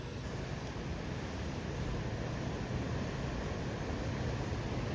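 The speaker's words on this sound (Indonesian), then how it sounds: "Ombaknya ngeri banget nih." Heavy surf crashing along a Java coastline, a steady dense roar of rough, dangerous waves with constant wind buffeting the microphone and no talk.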